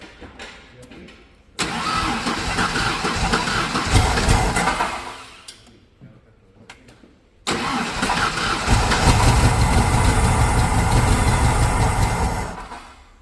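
A 1994 Ford F150 with the 4.9L 300 inline-six, suffering compression problems and a suspected blown head gasket, cranks and catches, then after a brief drop fires again and settles into a loud, rough idle close by, with voices talking over it.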